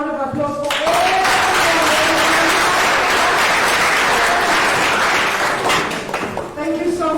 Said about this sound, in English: Can we please have another round of applause for everyone?